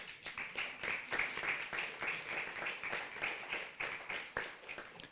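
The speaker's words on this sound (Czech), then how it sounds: "to je potlesk vlastně pro kolegy" Audience applause at a Czech civic-society talk, a steady spread of clapping from many hands running through the whole stretch, fairly distant and even, with no talk over it.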